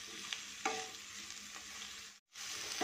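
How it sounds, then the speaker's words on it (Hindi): Pointed gourd (parwal) frying in a wok gives a steady close sizzle, with a few louder stirring scrapes and a brief silent gap near the end. "तो हम इसे 1 मिनट के लिए फ्राई करेंगे।"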